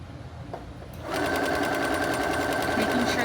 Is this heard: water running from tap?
no